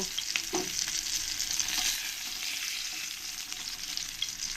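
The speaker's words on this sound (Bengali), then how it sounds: "এরকম করে লাল লাল করে আমি ভেজে নেব" Pieces of katla fish belly fry in hot oil, crisping until reddish, giving a steady close sizzle and crackle with a few brief louder pops, and no voices.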